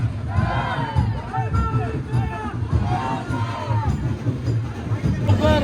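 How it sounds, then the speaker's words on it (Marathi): A large crowd shouts and chants together outdoors at the Panvel Koliwada palanquin procession, a loud continuous roar of voices with rhythmic rising cries over a steady drum-like pulse. "एवढा क्राऊड हा पालखीसोबत चालला आहे"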